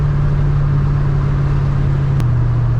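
A Ford Mustang with a hard-shifting manual transmission accelerates after a gear change, its engine holding a loud, steady drone that drops briefly in pitch near the end before pulling on.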